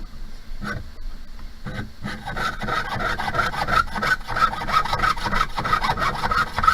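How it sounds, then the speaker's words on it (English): A hand saw rasps through wood in quick, steady back-and-forth strokes that grow faster and more regular, close up with no talking. "The key to sawing quickly is using the entire saw blade."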